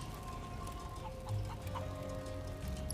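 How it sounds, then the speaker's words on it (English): Chickens cluck in a village scene of the video game Final Fantasy 7 Rebirth, several short clucks from a flock standing out over a steady ambient background with no talking. "I can't keep up with a flock of chickens."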